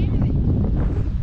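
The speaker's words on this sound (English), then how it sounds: "As you can tell, it's very windy here as always." Strong wind rumbles and buffets the microphone outdoors on a farm with cattle, a low, steady roar throughout the brief moment.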